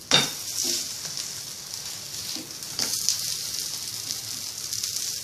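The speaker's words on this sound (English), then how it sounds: "we're going to place our patties. Now we are spreading some oil on the top. And now we're going to let it cook from the bottom" Aloo tikki burger patties sizzle steadily in hot oil in a pan, a continuous bright crackle with occasional louder spits and faint utensil clicks.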